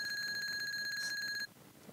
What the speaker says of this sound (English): Oh man, that alarm hit you a little too early.